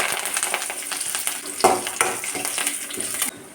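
Mustard seeds and urad dal fry in hot oil in a pan for a cabbage and green pea thoran, a steady close sizzle broken by spoon scrapes and taps as they are stirred, stopping abruptly near the end.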